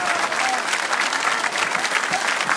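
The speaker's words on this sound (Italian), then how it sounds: "Grandissimo applauso perché ha parlato con mezzo polmone." A crowd at an outdoor political rally in Acqui Terme bursts into loud, dense applause, a continuous roar of clapping hands throughout.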